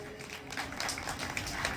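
An audience claps to welcome a guest at a Shiv Shakti kavad camp gathering. The applause is brief and fairly faint, made of scattered hand claps.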